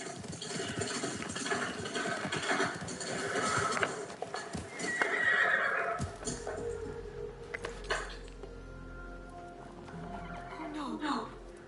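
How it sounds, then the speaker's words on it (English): A horse in a video game neighs and its hooves clip-clop, with game sound effects and voiced characters speaking over it. "My father's father's horse."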